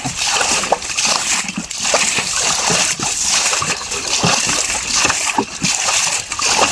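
Water sloshes and splashes repeatedly as it is bailed out of a wooden village river boat, a close, irregular series of wet splashes and trickles.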